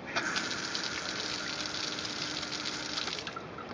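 Continuous hiss of water spraying hard from a garden hose nozzle on full mode, a broad steady gush heard up close without any talking.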